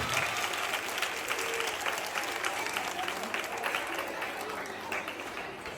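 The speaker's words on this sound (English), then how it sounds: "So let's keep clapping." Students clap for their director, continuous dense applause from a large group with faint voices mixed in, steady and fairly distant.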